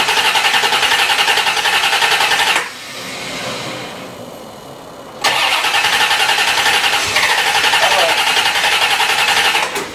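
A 1990 C4 Corvette engine cranks loudly, pauses briefly, then catches and runs with a steady, rough roar close by.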